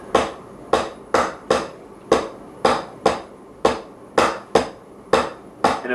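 A drum plays a double and single paradiddle pattern. Sharp, close strikes land about every half second, each decaying quickly, with some hits noticeably louder as accents.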